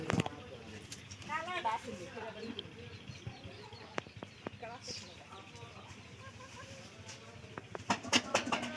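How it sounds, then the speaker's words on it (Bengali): Pigeons cooing in a loft, with repeated soft, throaty coos at low to moderate level under someone speaking, plus scattered clicks and rustles from the birds. "পায়রার কন্ডিশন ভালো, পায়রার ডাকও ভালো, সবকিছু ভালো আছে"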